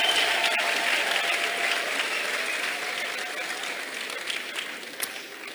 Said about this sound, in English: Let's clap for God.